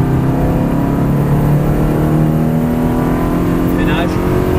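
A Ferrari 360 Modena F1 accelerates hard on a track, its engine note climbing steadily and loud throughout, close and continuous.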